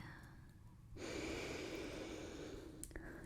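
A person draws in a deep, audible breath while a seamstress measures their waist, a soft close inhale that swells and holds, followed by a faint click, in a quiet room.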